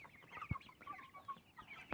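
Chickens and a rooster in a farmyard give soft, scattered clucks and short calls, fairly faint and close, with one sharp thump and no talking.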